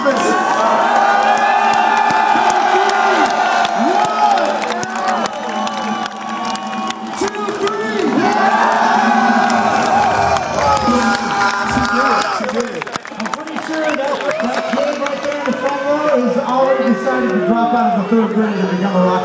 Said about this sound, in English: Please cheer her on, she's nervous.